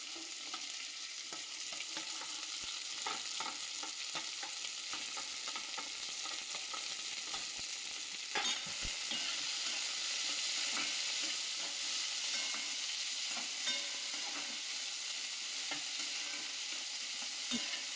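Chopped cabbage and capsicum frying in hot oil with cumin seeds, a steady loud sizzle with occasional stirring scrapes throughout, no voices.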